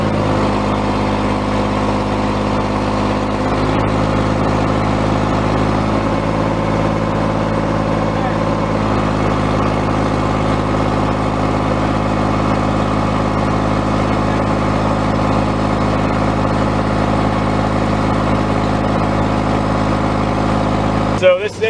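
A 60 horsepower tractor engine runs steadily with a Caterpillar 60 attached, a continuous low idling drone with stable harmonics that carries on throughout at a constant level.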